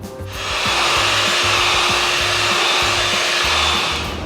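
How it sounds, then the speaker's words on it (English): Electric whisk beating mango ice cream mixture in a bowl set over ice, a loud close continuous motor whir with a steady rhythmic churning beneath, starting up quickly and running throughout. "I'll start whisking it. Whisk for 15 to 20 minutes until the soft peaks are formed."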